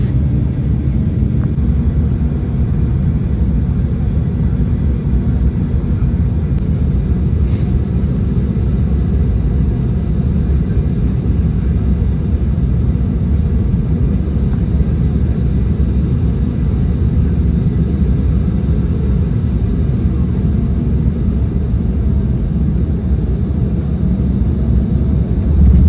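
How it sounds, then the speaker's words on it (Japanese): Steady, loud cabin roar of a Finnair airliner descending on approach to landing near Helsinki, a continuous low engine and airflow rumble holding evenly throughout with no voices. "間もなく着陸となります"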